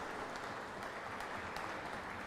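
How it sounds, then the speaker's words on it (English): Applause from an audience at a spiritual endowment lecture series, heard as a steady, soft wash of clapping from a distance with no talk over it. "A huge round of applause"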